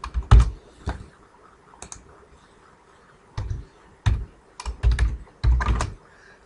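A spreadsheet formula is typed on a computer keyboard in close, crisp bursts of key clicks separated by short pauses, with no talk.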